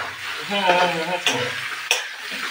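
Pork sizzling in oil in a wok and being stirred, a steady close frying hiss with two sharp scraping strokes of the utensil against the pan.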